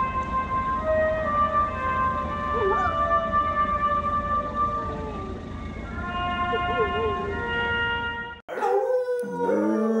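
A small dog on a Polish TV studio show howls in long, wavering drawn-out tones held for several seconds, clear and fairly loud, with a brief break before a final burst of higher yelping howls.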